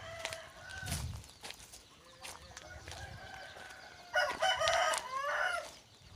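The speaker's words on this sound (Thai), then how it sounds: "เป็นฟาร์มไก่ชนนะครับ" Fighting cocks at a gamecock farm crow repeatedly, several nearby and distant roosters overlapping in drawn-out calls, with a louder cluster of crowing near the end.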